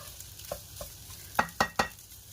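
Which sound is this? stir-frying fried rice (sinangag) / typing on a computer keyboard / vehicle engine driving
stir-frying fried rice (sinangag)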